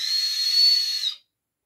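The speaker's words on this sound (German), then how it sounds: "Oh, diese Pfeife." A childhood candy whistle gives one steady, shrill, close tone for about a second, then cuts off into silence.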